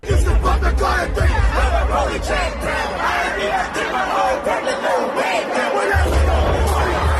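Packed concert crowd at a show in Houston roars and yells along with the music, a loud, churning mass of voices and cheers over a thumping low beat.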